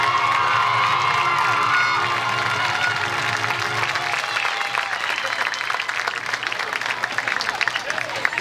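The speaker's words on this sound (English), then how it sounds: "Let's have another round of applause for all of our participants." A crowd at a college football game claps and cheers loudly with whoops and shouts that carry on steadily, while an announcer's amplified voice sounds in the first half.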